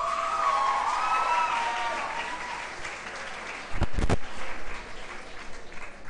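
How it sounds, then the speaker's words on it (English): School assembly audience claps for teachers at a Teachers Day morning gathering, a broad steady applause that softens slightly before a short loud burst of rumbling noise near the end. "A huge round of applause to our marvelous teachers."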